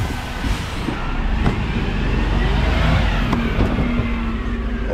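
Garbage truck driving along a route, a loud heavy engine rumble that swells as it accelerates, with brief clanks and a faint high whine, no talking.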